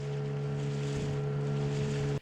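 Boat crossing the White Volta river between Sabonjida and Awunakope, its engine droning as a steady tonal hum under wind and water rush, loud and close, cutting off abruptly at the end.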